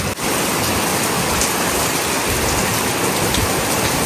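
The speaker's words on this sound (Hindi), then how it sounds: "अचानक हल्का सी हवा आई और फिर उसके बाद आंधी" A sudden storm's heavy rain and gusting wind pour down in a loud, dense, continuous hiss of drops drumming on surfaces, starting abruptly and holding steady throughout with no voices.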